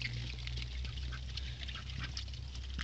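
Muscovy ducks feed outdoors on cabbage leaves, sprouted onion and apple peelings, giving soft, repeated duck calls close by over a steady low hum, with no talking.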